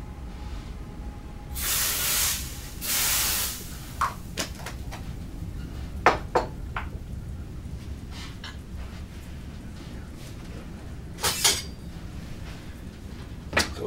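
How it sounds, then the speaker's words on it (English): Cooking spray hisses in two short bursts onto a heated waffle iron, followed by scattered kitchen clinks and knocks against a quiet background. "Cooking spray."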